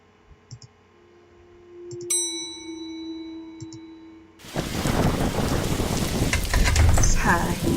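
Rain starts outside in The Darkside Detective video game, a steady loud hiss of rainfall that begins abruptly midway after quiet clicks and chime tones, continuing to the end.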